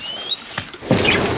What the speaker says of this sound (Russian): О, попугай шумят.